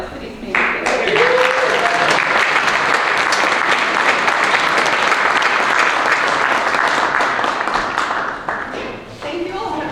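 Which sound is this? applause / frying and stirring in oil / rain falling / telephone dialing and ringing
applause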